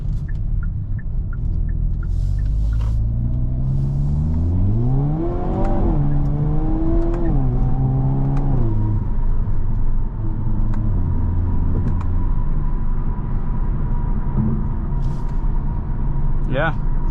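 A 2023 Hyundai Kona N hot hatch engine pulls hard through the gears from inside the cabin, rising pitch sweeps and shifts in a steady loud drone that continues throughout.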